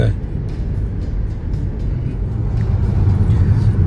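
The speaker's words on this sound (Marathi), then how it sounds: "आमची गाडी चालली आहे" A family car hums along a road in Karnataka on a trip, its low, steady engine and road rumble filling the cabin while people talk over it.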